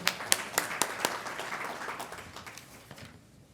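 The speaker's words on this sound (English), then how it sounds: "Please give yourselves a big, hearty round of applause." Audience applause with sharp individual claps at a school board legislative platform summit in a high school venue, fading out over a few seconds.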